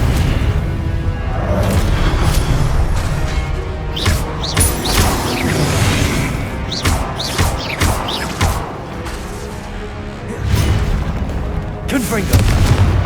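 Repeated booming fire-spell explosions, the Confringo spell in Hogwarts Legacy, burst after burst with crackling debris and rumble over a dense battle din, while a voice speaks intermittently.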